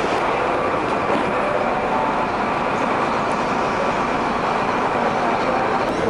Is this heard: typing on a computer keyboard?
no